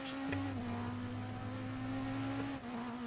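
A hybrid hypercar in the RaceRoom racing game holds a steady engine drone, a sustained mid-pitched tone with a low hum beneath, shifting slightly in pitch near the end.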